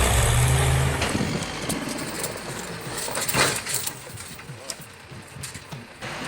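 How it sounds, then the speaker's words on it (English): A TT-4 tractor engine roars loudly at first, then settles into a rough, fluctuating growl with bursts of mechanical clatter while heavy steel equipment is pulled free on jungle logging terrain. "the heavy steel machine was pulled out with a mighty roar"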